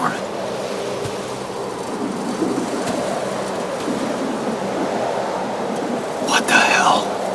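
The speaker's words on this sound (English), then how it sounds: "We're still in the storm." A storm in the video game The Alters, a steady broad roar of wind and rain with low rumbling underneath, constant and enveloping, with a brief sharper burst near the end.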